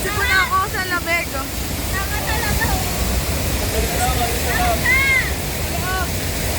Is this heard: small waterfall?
yes